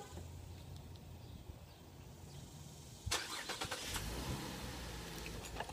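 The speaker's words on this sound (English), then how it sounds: "You see, I started it with the keys." A rental car's engine starts by remote from the keys, a sudden catch and steady idle rising after quiet outdoor ambience, heard from a short distance away.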